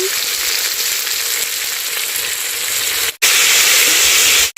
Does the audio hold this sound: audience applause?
no